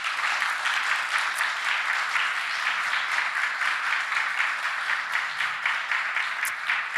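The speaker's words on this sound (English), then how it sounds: "Everybody deserves a big round of applause." A conference audience at the 11th GSSC Vilnius Forum claps together in sustained, even applause that keeps a steady level for several seconds.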